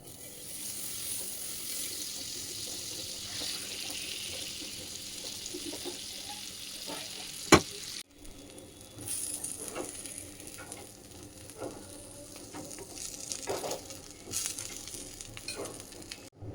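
Bread toasting in butter in a pan on a home kitchen stove gives a soft, steady sizzle with light stirring and scraping, plus one sharp clack midway.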